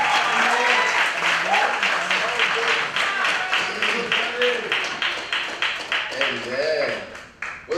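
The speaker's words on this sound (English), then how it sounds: "let's give another round of applause to our brother, Gerardo" Church congregation applauding at a Sunday service, sustained dense clapping from a large crowd with cheers and voices mixed in, tapering slightly toward the end.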